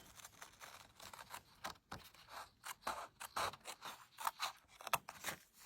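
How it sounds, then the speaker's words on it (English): Scissors snip along the edges of a paper card in a series of short, close, quiet cuts with brief pauses between them. "So right now we are just cutting the edges of the card."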